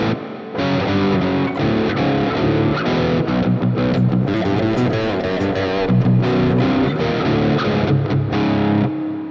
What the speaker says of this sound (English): let's start with a rhythm guitar tone for metal